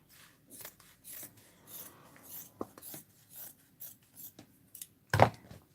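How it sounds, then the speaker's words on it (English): Scissors cut straight across craft material for a handmade book that holds crochet hooks, giving a run of short, quiet rasping snips in steady rhythm, close by, with one sharper snip near the end and no talking. "So I'm going to cut straight across here."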